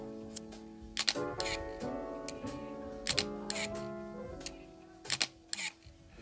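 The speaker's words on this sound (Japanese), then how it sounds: "そしてねさらに シャッター音ですよ" Several quiet mechanical shutter clicks from a Fujifilm GFX medium format camera come in short, irregular bursts, each a crisp snap with a soft mechanical follow-through, heard up close over a faint hum.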